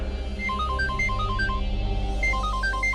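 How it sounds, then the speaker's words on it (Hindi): An electronic phone ringtone plays a repeating melodic pattern of short beeping tones, steady and fairly loud, with a low hum underneath. "इतनी रात को कौन फोन कर रहा है?"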